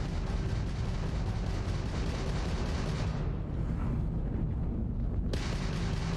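A Crimson Fleet ship's weapons fire in Starfield space combat, heard as a steady, loud stream of rumbling artillery-like blasts with a brief thinning before the barrage surges back.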